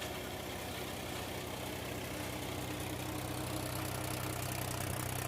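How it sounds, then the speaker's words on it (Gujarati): A Mahindra B275 DI tractor powers an automatic cumin thresher, producing a steady, continuous low engine drone with a rough mechanical hum that holds evenly throughout. "મહિન્દ્રા B275 DI મહિન્દ્રાનું ટ્રેક્ટર છે સરપંચ ટ્રેક્ટરમાં થ્રેસરનું કામકાજ બહુ સારું છે"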